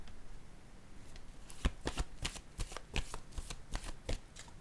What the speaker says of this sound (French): Je vais piger une autre carte pour cette zone.